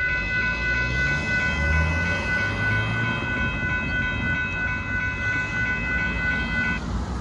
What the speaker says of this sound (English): There goes the southbound train.